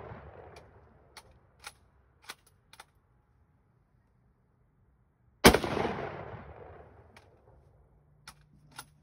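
A single sharp, loud gunshot cracks out at mid-point and rings into a fading echo, with sparse clicks and handling taps scattered before and after in an otherwise quiet setting.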